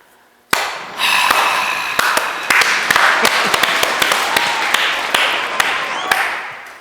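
A studio audience at a lecture show on studying breaks into sudden, loud, dense applause after a moment of quiet, with sharp individual claps standing out as it carries on steadily.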